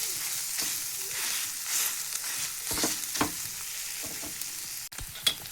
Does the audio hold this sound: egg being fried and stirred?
yes